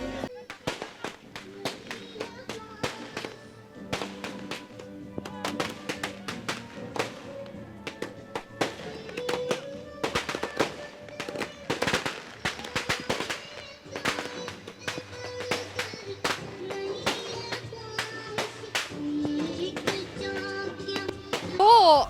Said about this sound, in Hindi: आपने आतिशबाजी तो देखी